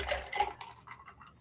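Liquor poured into a glass, with a brief trickle and splash followed by faint drips and light clinks, close and quiet.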